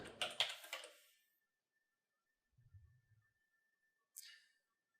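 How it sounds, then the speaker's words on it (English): Computer keyboard typing in a few quick clustered taps at the start, then a short muffled thump and one more brief burst of keystrokes, faint and close in a quiet room. "I can actually always go to Google and type in copper color."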